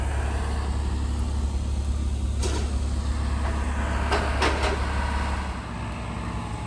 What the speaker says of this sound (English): So I got to reposition the truck.